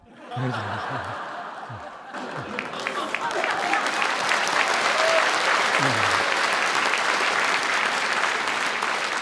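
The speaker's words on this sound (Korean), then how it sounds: "이제 박수하면 빨리 끝내라 이거죠." A church congregation applauds at a New Year worship service, the clapping swelling into a steady, dense round of applause with a little laughter from the crowd mixed in.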